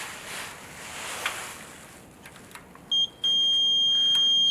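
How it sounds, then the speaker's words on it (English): A multimeter set to ohms beeps for continuity while testing an electric water heater element: a brief high beep, then a steady sustained tone, after a stretch of hissing background noise. "Listen to it beep."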